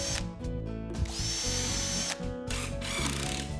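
A power drill drives 2-inch screws into wood while a wooden garden bench is assembled, the motor whirring loudly in bursts that rise and stop, with ratcheting clutch clicks, close up and alone.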